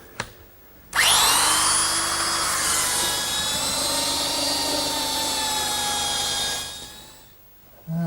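A belt sander whines loudly and steadily as it sands two wooden garden-bench members clamped together in a vise, starting abruptly, running for about six seconds, then winding down before a brief restart.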